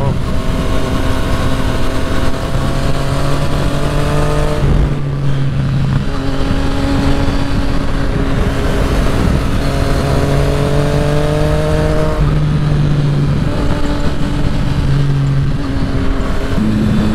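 A Yamaha FZ-09 motorcycle engine drones loud and close while riding a canyon road, pitch climbing through gears with brief dips between shifts, under constant wind roar.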